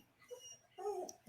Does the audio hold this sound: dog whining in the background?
yes